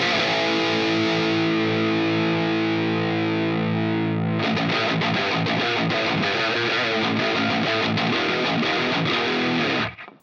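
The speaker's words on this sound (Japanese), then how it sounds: "これを過激にちょっと上げるとローファイなラジオ的サウンドが作ることができます" Heavily distorted electric guitar through a Fortin Nameless Suite X amp plugin, its high-pass and low-pass filters pushed hard for a thin, lo-fi radio-like tone. A sustained chord rings, then a tight chugging rhythmic riff plays loud and alone.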